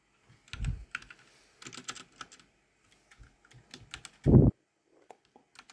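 Typing on a computer keyboard while entering commands in Minecraft, heard as scattered clicks in short irregular bursts with one louder thump near the end, close up, with gaps of quiet between bursts and no talk.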